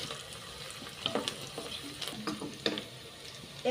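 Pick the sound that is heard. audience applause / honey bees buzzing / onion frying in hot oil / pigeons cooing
onion frying in hot oil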